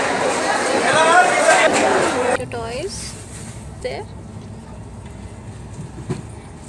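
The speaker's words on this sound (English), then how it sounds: "The railway station is fully packed and all the trains are fully packed with the passengers" A busy station hums with crowd chatter and the rumble of a passing train, while a voice speaks up close before the noise thins out.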